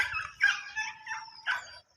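A dog barks and yips several times in quick, uneven bursts, fairly close and clear, with no other sounds around it.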